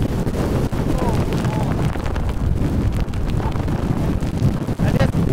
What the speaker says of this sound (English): this is where the wind gets super crazy